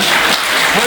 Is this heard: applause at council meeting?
yes